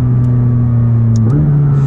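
Engine of a McLaren 600LT with a dual-clutch gearbox, revving on a drive in mild weather: loud steady drone from inside the car that climbs slightly in pitch near the end, with faint ticks over it.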